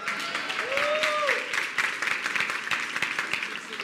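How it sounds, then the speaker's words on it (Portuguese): A church congregation applauds during a worship service, a steady patter of clapping with a whistle or voice rising over it early on, moderately loud and even. "Uma salva de palmas para o Jader"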